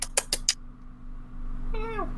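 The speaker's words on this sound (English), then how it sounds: "Get off of my fucking laptop, cat." A house cat lets out a single clear meow, rising then falling, close by near the end, preceded by a few sharp taps and thumps as it walks across a laptop.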